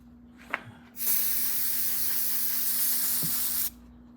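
Cleaner sprays from an aerosol can during work on a 1971 Norton motorcycle: a soft click, then one continuous hiss of nearly three seconds that cuts off sharply.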